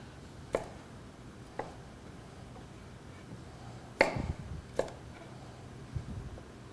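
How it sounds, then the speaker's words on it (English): A kitchen knife cuts a large vegetable floweret into quarters and smaller pieces on a board for a stir fry, giving a few sparse, distinct chops with quiet pauses between them. "cutting into the flowerette, a big flowerette like this, you could even just cut right into it, maybe quarter it up and cut it into these smaller pieces"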